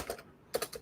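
Clicky computer keyboard typing, a few quick keystrokes close by, with a brief pause in the middle before another burst.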